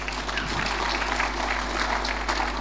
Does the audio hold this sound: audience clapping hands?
yes